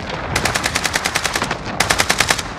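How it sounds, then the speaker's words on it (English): Two loud, close bursts of rapid automatic gunfire in the shooter game Call of Duty: Modern Warfare, each a crisp string of evenly spaced shots separated by a short gap, with no talk. "I'm taking fire."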